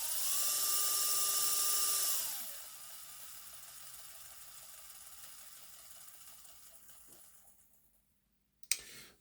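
A replacement X03/X04 model motor runs under applied power with a high mechanical whine and gear buzz that holds steady, then drops in pitch and winds down over several seconds, close and fairly quiet, ending in a brief click.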